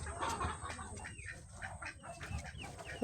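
Several chickens cluck and chatter in a busy farmyard, with soft overlapping calls and a steady low background rumble throughout.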